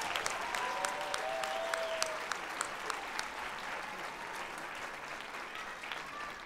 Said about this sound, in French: J'aimerais qu'on applaudisse Michel-Jean,